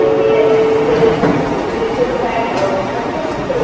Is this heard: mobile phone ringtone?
no